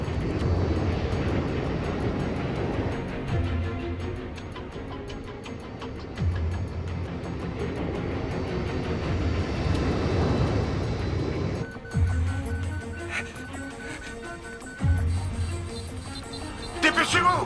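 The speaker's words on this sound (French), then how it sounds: "Nous tentons un atterrissage d'urgence." Aircraft in flight with an electrical fault attempting an emergency landing in an action film, a sustained engine drone that shifts and intensifies, with intermittent thumps and clatter, under urgent dialogue.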